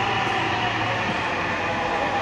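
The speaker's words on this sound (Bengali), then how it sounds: "মেট্রো রেল কত দ্রুত বেগে প্ল্যাটফর্মে এসে দাঁড়িয়ে গেল" A Dhaka metro rail train pulls into the platform, its steady rumble and rolling wheel noise filling the station at close range with no pauses, no voices over it.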